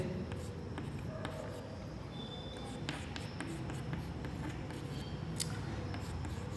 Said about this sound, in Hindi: यहाँ पे डेफिनेशन लिखते हैं